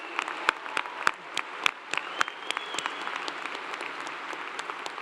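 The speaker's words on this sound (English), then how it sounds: "How about another round of applause for our newest Master's in Educational Specialist degree recipients?" Graduates are applauded at a university commencement ceremony, with sustained crowd clapping in a large hall and a few sharper individual claps standing out over the wash, holding steady for several seconds.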